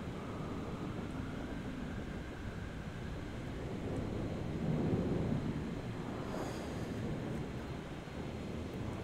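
A storm in the video game Stationeers sends a steady, moderately quiet rushing roar of wind, rising briefly midway, with no speech.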